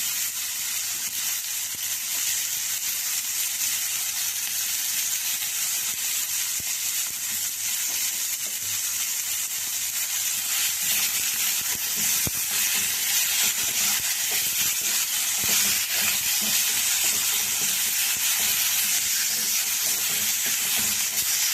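Kara chutney ingredients saute in a hot pan with salt added, giving a continuous, even sizzle and hiss close up, with occasional faint stirring.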